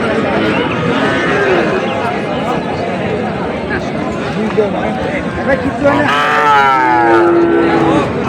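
Sahiwal heifers and other cattle at the Ambari livestock haat in Dinajpur, with a loud bovine moo near the end over constant crowd chatter and nearby bargaining voices.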